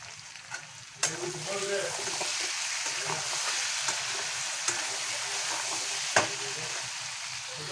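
Pumpkin curry with ginger chili paste, cumin, salt and turmeric fries in a pan with a steady close sizzle, broken by occasional sharp clicks of a spoon stirring against the pan.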